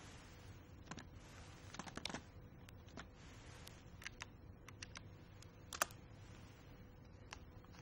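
Keys tapped on a computer keyboard to type a search query, light irregular clicks over about eight seconds, soft and close with no talking.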